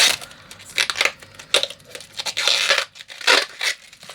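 A thin protective film is peeled off the plastic housing of a wireless electric car air pump. It makes close, crackling tearing and crinkling bursts in several separate pulls, with short pauses between them.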